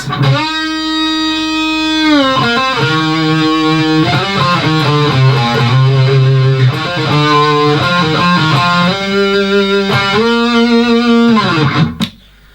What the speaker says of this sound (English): teaching you the guitar solo